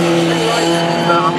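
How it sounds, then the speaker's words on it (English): Race car tyres squealing as the car locks up under heavy braking into a hairpin during a saloon car club race, a continuous loud screech with engine tone and commentary voice over it. "all fully locked up is Tim Evans into the hairpin"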